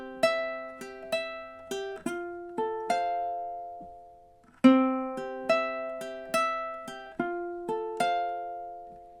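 Solo ukulele plays the opening two bars of a song, each measure repeated, as a steady sequence of plucked notes with ringing decays and a short pause midway, close and clear with no voices.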